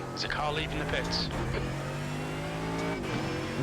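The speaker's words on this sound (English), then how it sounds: "There's a car leaving the pits." A race car in the iRacing simulator pulls out of the pits, its engine droning steadily with a few shifts in pitch, heard beneath someone talking over it.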